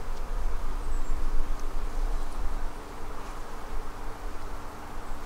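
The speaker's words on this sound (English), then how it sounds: "these bees are already angry" Angry bees buzzing steadily around an opened winter hive during a beekeeping inspection, a dense, continuous drone that stays fairly close and even throughout, with no talking.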